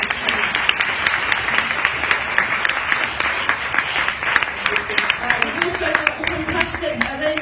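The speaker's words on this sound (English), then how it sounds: "A round of applause, please." Audience applause for a performer being introduced at a Facebook event, a dense, loud wash of many hands clapping continuously, with scattered sharper claps standing out and faint voices mixed in.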